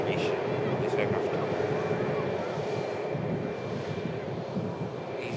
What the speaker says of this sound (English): EasyJet just touching down at the back of shop.